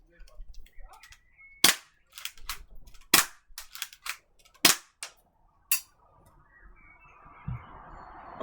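An airsoft gun fires a series of sharp, close snapping shots, several crisp cracks spaced a second or so apart, with faint bird chirps and a brief rustle at the end.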